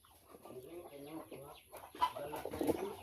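Chickens and chicks cluck softly in a coop, faint and close, with scattered short calls and a few sharper peeps near the end, and a voice murmuring in the background.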